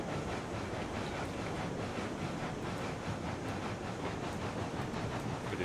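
A locomotive in RailRoads Online rolls along the rails with a steady, muffled rumble and faint rhythmic clatter, quiet and continuous with no voices.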